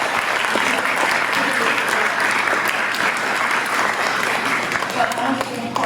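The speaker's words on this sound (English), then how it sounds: "let's give them all a round of applause." Steady, dense applause from a large audience fills the space, continuous clapping without pause, with a voice faintly audible underneath.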